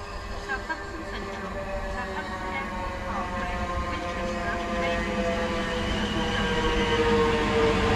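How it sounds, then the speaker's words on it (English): A South Western Railway passenger train on the Weymouth to London Waterloo service pulls into a Dorset station. Its steady rumble carries a sustained whine and grows slightly louder as it approaches. "another train arriving is the 1324 Southwestern Railway service from Weymouth to London Waterloo"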